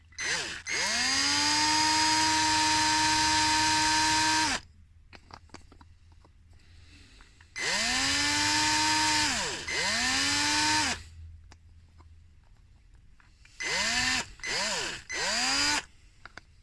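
A power drill countersinks holes in a workpiece, running in three separate bursts: two long steady whines, then several quick short pulses, each spinning up and down, loud and close.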